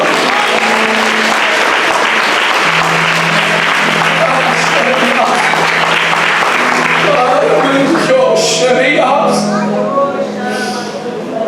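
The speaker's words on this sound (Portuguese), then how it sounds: "Aplauda o Senhor." Church congregation applauding loudly and steadily during a pastor's sermon, a dense wall of clapping with a low sustained tone beneath and voices rising near the end.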